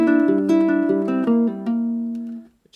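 A ukulele plays the picked intro of a song fingerstyle, with bright plucked notes in a rolling pattern. The final notes ring out and fade to silence. The playing is close and clear, with no talking.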